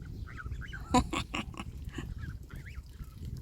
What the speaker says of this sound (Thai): เลี้ยงเป็ดเลี้ยงนก